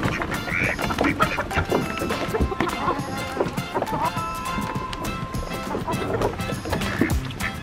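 A duck quacks several times near a rain-soaked farmyard barn, fairly close and clear, amid rustling, shuffling movement and other outdoor noise.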